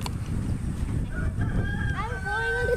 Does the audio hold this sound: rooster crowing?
yes